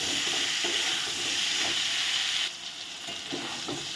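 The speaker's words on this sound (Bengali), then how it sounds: "ভালো করে আলু আর কলাটা একটু ভেজে নেব।" Potato and green banana pieces fry in a pan with salt and turmeric, giving a loud, continuous sizzle and hiss with occasional stirring scrapes; the sizzle softens slightly partway through.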